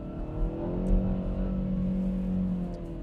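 A Kia Proceed GT engine revs hard as the accelerator is pressed, a loud, close, sustained roar with a brief blip near the start and no talking over it.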